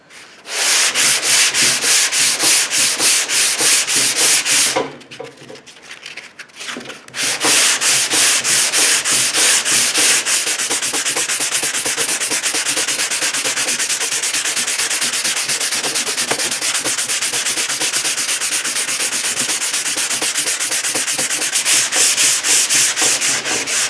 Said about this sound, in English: Block sanding.